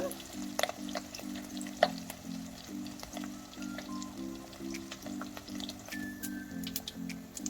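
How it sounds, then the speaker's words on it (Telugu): A beaten rice (atukulu) mixture fries in hot oil, a steady close sizzle with light crackles and stirring scrapes, and a low, rhythmic hum pulsing underneath, with no talking. "ఇదంతా కూడా క్రిస్పీగా ఫ్రై అయ్యేటట్టు ఫ్రై చేసుకోవాలి"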